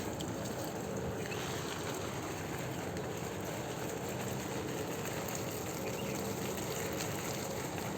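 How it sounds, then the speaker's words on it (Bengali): Water from a hose pipe runs onto a young jackfruit tree, a steady, even rushing hiss that lasts the whole time without a break. "জল দিচ্ছি।"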